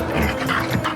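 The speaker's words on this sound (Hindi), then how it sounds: "मैं तब भौंकता हूं जब चोर आता है" A dog in a Hindi animated folk story whimpers and pants loudly and close, a continuous breathy, whiny sound filling the whole moment.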